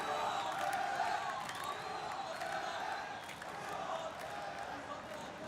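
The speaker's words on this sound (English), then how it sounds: "Has somehow just made this crowd even louder." A large esports event crowd at the Esports World Cup 2024 EA FC 24 final roars and cheers loudly and continuously, a dense sustained wall of voices with shouts rising and falling throughout.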